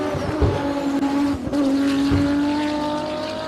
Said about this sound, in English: You can also hear Franco feathering the throttle